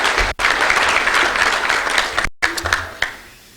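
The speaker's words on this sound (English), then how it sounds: "So let's have a round of applause for all of them, these great volunteers" Attendees at a university breakfast meeting applaud the event's volunteers with loud, full clapping. It breaks off briefly twice, then thins into scattered final claps before fading out.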